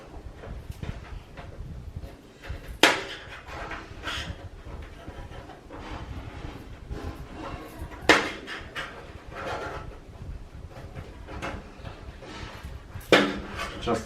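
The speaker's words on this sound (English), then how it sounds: "Just using regular flat screwdriver." Quiet scraping and tapping as a regular flat screwdriver pries an LED strip inside a TCL LCD TV, with three sharper clicks spaced several seconds apart over low handling noise.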